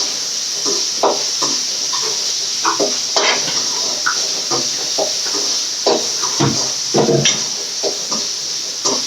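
Coconut, garlic, shallots and ginger sautéing in hot oil, with a steady hiss and soft sizzle broken by scraping stirs of a spatula against the pan, close by and continuous.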